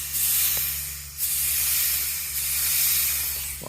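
Air hissing from a boost leak at a turbo coupler, a loud continuous hiss that swells and fades in long waves over a low steady hum from the air supply.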